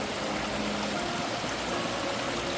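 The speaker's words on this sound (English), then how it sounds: "So I gotta cross a river now," A river on the Camino del Norte near Soto de Luiña rushes by in a dense, constant broadband roar, loud and close with no pauses.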